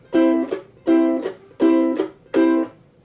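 Four muted ukulele strums for a reggae pattern land on the offbeats with the fretting hand damping the strings, each a short percussive chord followed by a quick scratchy upstroke. They are evenly spaced, close, moderately loud and without speech.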